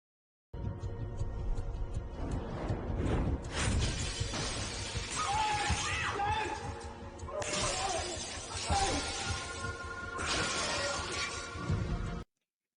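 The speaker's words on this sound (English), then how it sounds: "Ji Won takes a golf club and smashes the glass coffee table." A golf club smashes a glass coffee table, glass shattering in several bright crashing bursts with tinkling fragments over a dramatic backing score.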